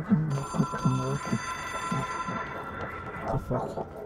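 A telephone rings inside the video game Control, its bell-like trill repeating steadily across the clip with a voice talking over it.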